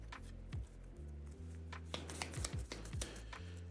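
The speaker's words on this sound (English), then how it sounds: "Shuffle, shuffle, shuffle." A deck of game cards for a zombie board game being shuffled on a tabletop, a run of soft close riffles and card slaps in an uneven rhythm, no talking.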